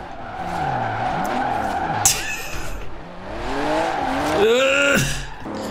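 A V6 Chrysler drifting in Forza Horizon 4, with tires skidding and squealing under a revving engine whose pitch sweeps up and down, loud and close.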